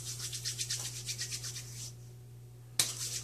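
A shea butter skin care mix being rubbed between two hands, close soft rhythmic swishing strokes that pause briefly before a sharp rub near the end, over a low steady hum.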